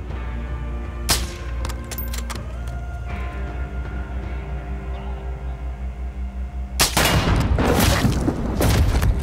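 Gunfire in Call of Duty Warzone: several sharp isolated shots ring out over a steady low engine-like drone, followed by a dense burst of rapid firing near the end.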